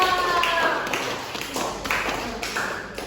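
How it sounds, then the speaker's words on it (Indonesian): Students in a classroom clap for classmates after a lesson on the human respiratory system, a brief ragged round of hand claps of moderate loudness with voices mixed in. "Oke, beri tepuk tangan dulu dong."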